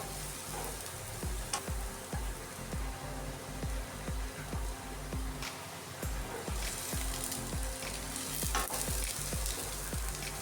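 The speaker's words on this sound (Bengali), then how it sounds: "গাজরগুলো যখন খানিকক্ষণ ভাজা হয়ে যাবে তারপর তাতে দিয়ে দেবো কেটে রাখা বিনস" Carrots and beans fry in a pan with a constant, fairly quiet sizzle, broken by regular scraping stirs of a spoon throughout. No one speaks.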